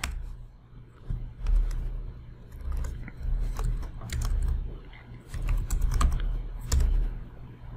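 Rapid bursts of clicky keystrokes on a computer keyboard as commands are entered during network configuration, close and uneven in rhythm with brief pauses between runs, and no speech.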